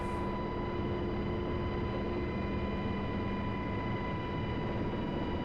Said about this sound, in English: Always interesting taxiing a helicopter.